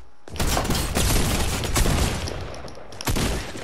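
Rapid, loud blasts of a jump shotgun being fired repeatedly in Fortnite, a sharp close burst at the start and another near the end, with a dense stretch of shooting in between.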